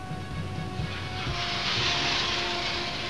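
An F6 military jet of the Pakistan Air Force flies a firepower demonstration, a loud, rising engine roar and hiss that swells toward the middle and holds steady, with no voices.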